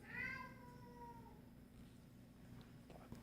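A cat meows once, loud and close, inside a room, its cry sliding downward and fading over about a second, followed by quiet room tone with a steady low hum and a faint click near the end.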